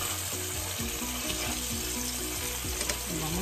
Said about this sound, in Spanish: Vamos a sofreír de este lado por 7 minutos más